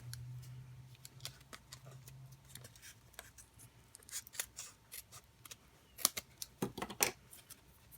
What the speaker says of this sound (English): Let me get out my tiny scissors.